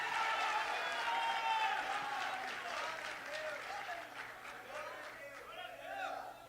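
A church audience breaks into loud, continuous applause with cheering voices mixed in, the clapping swelling at first and then tapering slightly while it stays dense throughout.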